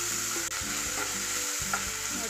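Masala fries in a pan with a constant hissing sizzle while a spatula stirs it, giving a few soft scrapes and taps over the steady crackle, close and without talk.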